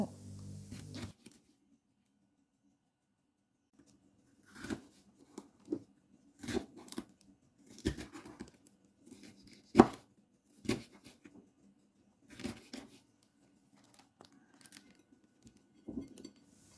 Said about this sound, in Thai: มีพริกหวาน เราหั่นบางๆค่ะ